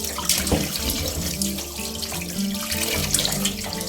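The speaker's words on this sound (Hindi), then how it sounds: "अब एक बार फिर आपने इसको खुले पानी में अच्छे से वॉश करना है" Fish rinsed under an open running kitchen tap to wash off turmeric and vinegar marinade, a continuous close splashing stream of water with small irregular spatters as the fish is handled, no voices.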